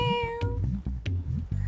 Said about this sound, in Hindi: आपके घर से बिल्ली की आवाज भी आ रही थी